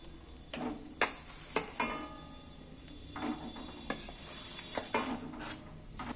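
Thick palm fruit pulp scraped and poured into a metal cooking pan (kadai) on a gas stove, with a series of sharp utensil clinks and scrapes against the pan and soft wet slaps in between, close and moderately loud.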